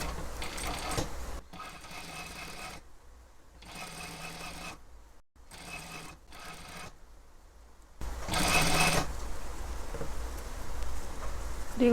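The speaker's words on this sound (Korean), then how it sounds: "이제 여기부터 박음질 해줄게요" A sewing machine stitches a zipper onto two-tuck wide slacks in short runs of fast, buzzing needle strokes with quiet gaps between them, close and fairly soft, and one longer, louder burst near the end.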